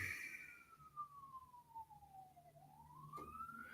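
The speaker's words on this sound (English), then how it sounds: "Can you hear the sirens going by?" A wailing vehicle siren passes at a distance, one long falling sweep and then a rising one, faint behind low background hum.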